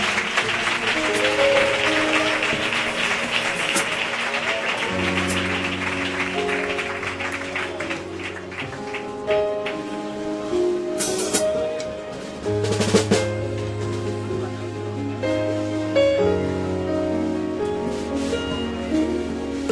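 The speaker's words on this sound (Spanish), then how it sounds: "La iglesia del centro da la gloria a Dios con un fuerte aplauso." A church congregation gives a loud, sustained round of applause, dense clapping that gradually blends with sustained musical tones as the service continues.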